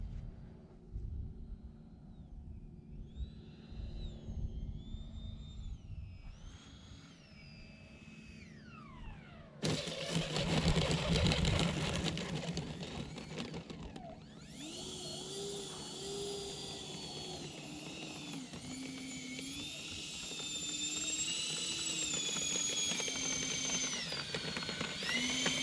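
A radio-controlled model airplane engine throttled back to a quarter on final approach for landing, a steady mid-pitched whine and drone with shifting pitch, continuous and fairly close, without talk.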